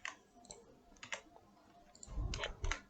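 Numbers being typed into a calculator on a computer, a handful of quick, light keyboard clicks in small bursts, close and quiet against a faint background.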